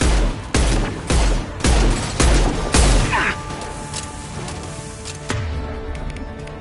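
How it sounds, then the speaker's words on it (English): High-impact gunshots ring out in a sci-fi shooter game, a series of about six heavy, booming blasts in quick succession followed by a later shot, each with a sharp crack and rumbling tail. "Firing a high-impact shot!"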